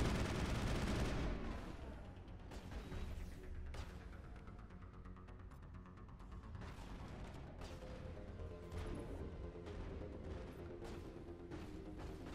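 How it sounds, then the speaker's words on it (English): Sharp bursts of gunfire in a Mass Effect firefight ring out one after another at a steady distance, with a loud blast at the start and repeated cracking shots that follow. "You need to stop here and shoot these guys."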